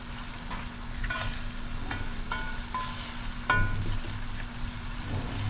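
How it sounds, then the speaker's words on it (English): Onions softening in a pan for mango and celery achaar, a low continuous sizzle with several clicks and scrapes of stirring, close and without talk. "I'm going to let it cook a little more until the onions and stuff get softer and get transparent. And you're going to keep stirring."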